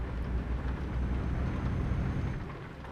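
Rolling thunder with steady rain noise during a thunderstorm in Euro Truck Simulator 2, a continuous low rumble holding at even loudness throughout, with no voices over it.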